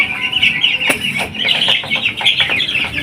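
Heritage chickens clucking and chirping nearby, a busy overlapping chorus of bird calls with one sharp louder call near the start.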